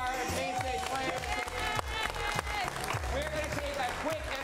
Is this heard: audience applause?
yes